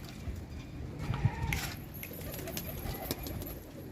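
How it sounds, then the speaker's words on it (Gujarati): Pigeons cooing close by at a home loft, soft low rounded coos repeating under a busy background of rustling, wing and scuffling noises, with no clear talking. "જોઈ લે આ બધા કબૂતર"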